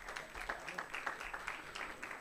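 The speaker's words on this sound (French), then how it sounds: "Bah alors là, on peut applaudir. On peut applaudir." Steady applause from an audience, many hands clapping together in a continuous, moderately loud wash.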